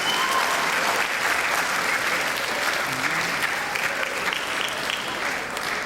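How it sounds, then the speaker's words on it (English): An audience at a public school event in Jersey City applauds, a sustained, even round of clapping from a large crowd, with some faint voices underneath. "So a big round of applause"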